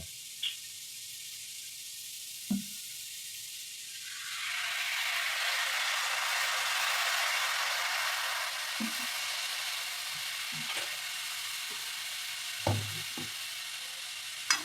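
A coconut and jaggery filling cooks in a pan over low to medium heat, with a soft sizzling hiss swelling midway and sporadic scraping taps of stirring.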